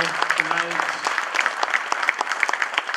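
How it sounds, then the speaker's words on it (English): An audience at an evening panel event applauds, with a brisk patter of individual claps and a voice speaking briefly at the start. "Please join me in giving a round of applause to our panel tonight"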